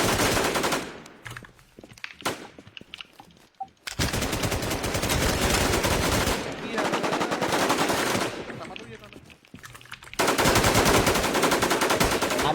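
Gunfire in the Infestation survival shooter game, heavy sustained automatic bursts roaring loud and close, broken by short gaps with a few scattered single shots, then another long burst at the end.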